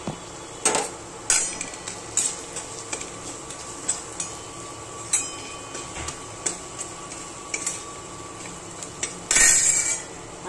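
Mutton masala and coriander powder stirred in a metal pan, with repeated sharp scrapes and clinks of a spoon against the pan at an irregular rhythm, close and fairly loud, and a louder burst of scraping near the end.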